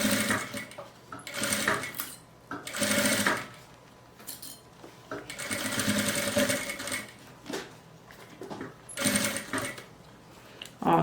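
A sewing machine stitches bias binding onto a fabric zip pouch in short bursts of rapid needle clatter, pausing between runs, close and moderately loud with faint handling noises.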